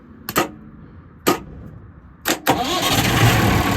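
Car engine being started with a 24-volt jump pack: three short cranking bursts with pauses between, then the engine catches and settles into a loud, steady idle.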